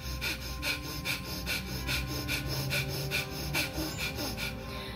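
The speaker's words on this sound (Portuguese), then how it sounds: "Então você tapa a narina direita e respira vigorosamente e rápido somente pela narina esquerda." Rapid, vigorous breathing through one nostril during an alternate-nostril breathing exercise, a close and even series of sharp, rhythmic puffs repeating about twice a second with no talk.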